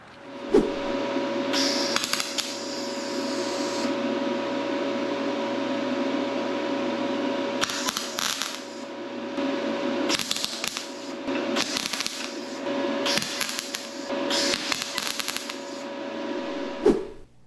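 Tack welding on a Porsche 911 body panel: about five or six bursts of harsh welding crackle, each lasting under a second to two seconds, break through a steady machine hum and hiss at close range.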